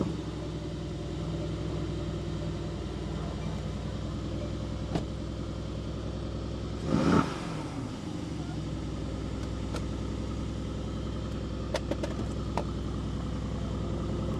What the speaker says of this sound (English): let's start it up and hear it.